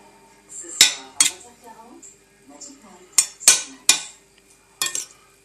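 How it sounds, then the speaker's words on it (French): Salmon, mango and avocado tartare ingredients being gently mixed in a dish, with several sharp utensil clinks against the bowl spaced irregularly, separated by quiet stretches with faint background murmur. "on mélange délicatement les ingrédients déjà"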